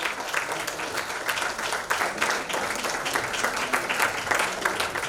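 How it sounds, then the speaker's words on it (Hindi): Audience applause at a Hindi-language award ceremony for nursing and paramedical institutes, steady dense clapping from a sizable crowd sustained evenly throughout, with no speech over it. "आप सबकी शुभकामना रूपी तालियों के साथ"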